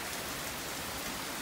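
Steady rain falls outside and spills from several gutters, making a dense, even hiss and patter that is loud and constant throughout, with no voices.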